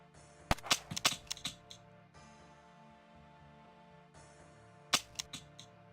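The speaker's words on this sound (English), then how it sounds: "And I can fire the one bullet, but it doesn't remove it." Gunshots fired in the game Zomclave, a cluster of sharp, close reports in quick succession near the start, then a quiet stretch and another short burst of shots near the end, with no talk.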